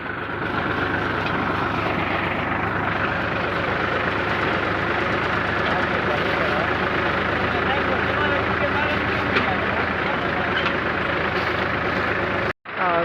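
Farm tractor ploughing a field, a loud steady engine drone with rumbling low tones close by and constant throughout, with voices talking over it before a brief drop near the end.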